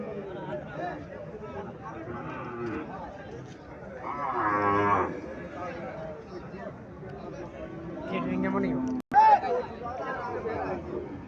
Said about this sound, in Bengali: এখানে একটা দেশি গাবি দেখা যাচ্ছে।